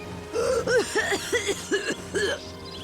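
A character in Lightning Returns: Final Fantasy XIII coughs in a rapid fit of about six harsh, evenly spaced hacks, clear and close with quiet game ambience behind.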